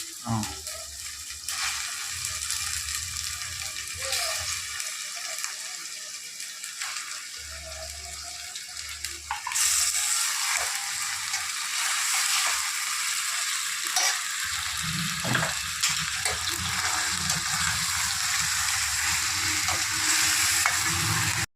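Chicken sizzles and fries in a pan, the hiss swelling louder midway and holding steady, with occasional stirring clatter and quiet background noise.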